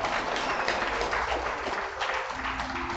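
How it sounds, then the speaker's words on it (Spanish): Applause fills a Catholic church service, a crowd clapping loudly and continuously for about three seconds with no talking. "Damos un fuerte aplauso al Señor."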